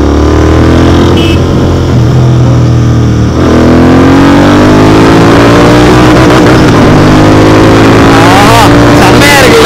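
A Royal Enfield Continental GT 650 twin fitted with a cruiser silencer rumbles loudly up close, its exhaust note dipping briefly and then rising steadily as the bike accelerates.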